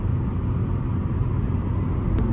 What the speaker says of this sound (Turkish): Şu an 110 km hızlarda seyrediyoruz. Araç 6. viteste 3000 devirlerde seyrediyoruz.